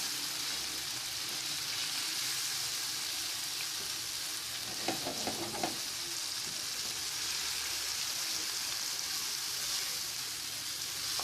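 Red chili and spices sizzle steadily as they are stirred in a frying pan for desi-style chicken pasta. The hiss is continuous and close, with a brief clatter of utensil scraping midway.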